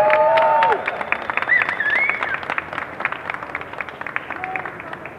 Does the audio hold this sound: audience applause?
yes